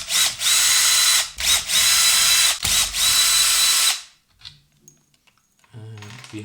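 Power screwdriver backing screws out of a Bang & Olufsen Beomaster 3500 receiver, four loud, close whirring bursts with brief gaps, then quiet handling clatter as the screws come free.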